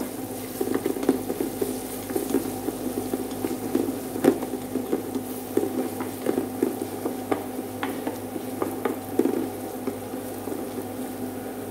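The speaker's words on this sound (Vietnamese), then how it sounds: "Rồi chúng ta trộn lên." Duck curry fries and sizzles in a pan while it is stirred, a steady close crackle with frequent light scraping ticks and no voices.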